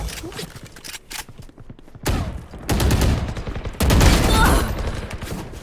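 Gunfire in the shooter game Valorant, several close bursts of rapid shots with short gaps between them, while players talk excitedly over the shooting.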